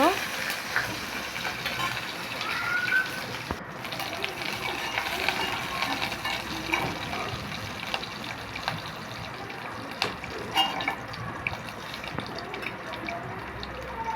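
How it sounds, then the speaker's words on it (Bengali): Chili, onion, cinnamon, cardamom and cloves fry in hot oil in a home kitchen pan while being stirred, a steady close sizzle with scraping stir strokes and occasional clicks throughout. "তেল দেওয়া শেষে দিয়ে দেব মরিচ পেঁয়াজ দারচিনি এলাচ লং দেওয়া শেষে নাড়াচাড়া করে নেব"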